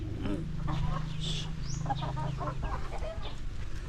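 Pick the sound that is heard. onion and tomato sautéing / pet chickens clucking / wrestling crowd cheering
pet chickens clucking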